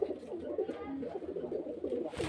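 Soft, low cooing of domestic pigeons, a murmuring chorus of several birds close by at a pigeon sale in Beldanga, continuous and gently rolling, with a brief rustle near the end.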